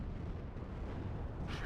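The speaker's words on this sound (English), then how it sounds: "Big boom. Big explosion." Bombs explode in a war video game, a dense, continuous low rumbling roar with a faint rise of hiss near the end and no talking over it.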